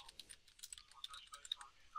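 Someone types into a search box on a computer keyboard, with quick, light, irregular key clicks close by in a quiet room.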